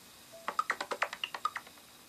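Beatbox Android notification tone on an ASUS Eee Pad Transformer Prime: a quick run of about a dozen crisp, clicky percussive hits with small bright tonal blips mixed in, lasting under two seconds.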